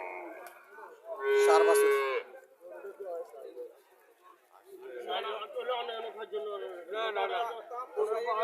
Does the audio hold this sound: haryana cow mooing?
yes